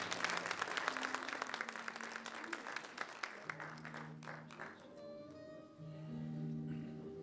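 Audience at a sports gala in Onești clapping for a school club's badminton section: dense applause that thins out after a few seconds as music-like tones and a voice come in.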